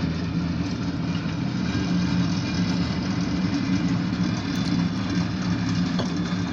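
A freight locomotive idles at a rail freight yard: a steady low engine rumble, continuous with no change in pitch, a constant mechanical drone at moderate distance.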